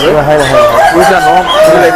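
About twenty-five roosters crow over one another at a farm in a dense, continuous chorus, loud and close, with some clucking mixed in.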